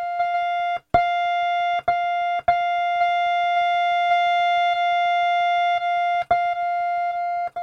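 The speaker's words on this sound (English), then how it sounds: "That's supposed to be a sine wave, and let me tell you now, doesn't sound like a sine wave to me." A steady, buzzy sine-wave tone from a faulty function generator with a raspy, distorted edge drones continuously, broken by several sharp clicks and brief dropouts.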